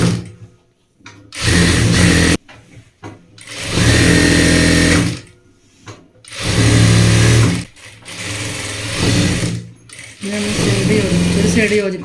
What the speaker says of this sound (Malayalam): ഇവിടുന്ന് ഇങ്ങനെ സ്റ്റിച്ച് ചെയ്ത് വരിക